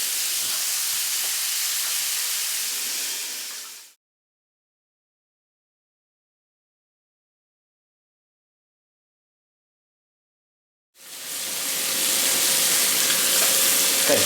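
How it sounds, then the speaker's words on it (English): Pork searing in a hot pan for a slow cooker roast, a loud steady sizzle that cuts out to silence for several seconds and then resumes just as strongly. "Straight away you can hear it sizzling."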